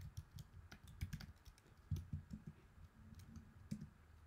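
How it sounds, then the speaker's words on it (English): Quiet, steady typing on a computer keyboard, a string of soft irregular key clicks with a few louder taps, heard alone without speech. "I'm teaching you the need to be able to type by yourself, because the more you type, the better you get used to the syntax"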